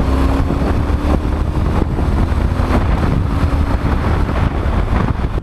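Triumph Street Scrambler motorcycle pulling hard from second gear at around 30 mph, a loud, steady engine roar under heavy wind rush from the rider's microphone, with no talking.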